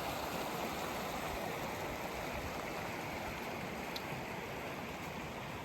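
Rock Creek flowing beside a mountain trail near Cottonwood Pass, a steady, dense rush of water close by that fills the whole stretch with no voices.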